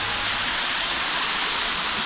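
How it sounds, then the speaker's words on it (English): A roadside waterfall on Queensland's Sunshine Coast, swollen after a week of heavy January rain, gives a steady, close, full roar of rushing water that stays constant from start to finish. "These locals will not want you to know about this fucking waterfall."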